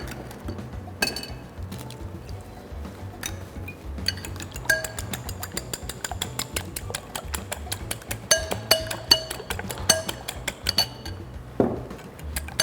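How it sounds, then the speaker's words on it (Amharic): Three eggs cracked against a hard edge into a bowl in a kitchen, giving a string of sharp little clicks and clinks alongside faint clatter of dishes and utensils, fairly close and fairly quiet, with no talking. "ሶስት እንቁላል እንሰብራለን።"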